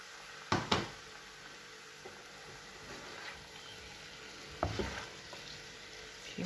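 Onions and tomatoes fry gently in a pan for an eggplant dish, a faint, steady sizzle punctuated by a few sharp spoon knocks and stirring scrapes.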